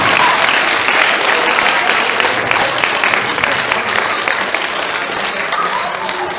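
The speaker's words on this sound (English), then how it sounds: "Give them a huge round of applause now." A crowd at a high school after-prom hypnosis show breaks into loud, sustained applause with some cheering, a dense wash of clapping that stays strong throughout and eases only slightly.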